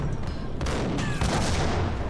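Dense, rumbling gunfire in Max Payne, in a steel-smelting furnace level, crackles and booms continuously in a steady barrage, loud and close throughout.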